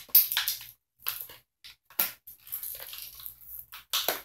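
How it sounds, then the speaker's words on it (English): Scissors snip and crunch through tough plastic toy packaging in short, sharp bursts separated by pauses, close and fairly quiet, with no voices. "again with the scissors"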